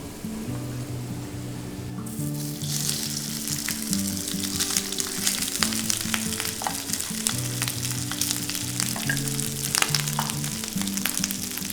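Cooked rice goes into a hot pan for Korean garlic fried rice with the heat turned slightly down. A steady close sizzle and crackle builds after a brief quieter start, with faint stirring scrapes and no talking.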